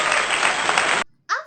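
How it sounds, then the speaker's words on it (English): Students in a classroom clap together in a dense burst of applause for about a second, which stops abruptly before a short voice follows. "Give applause for us."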